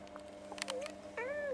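A cat meows twice indoors in a room, two short rising-and-falling calls at moderate volume over a steady low electrical hum.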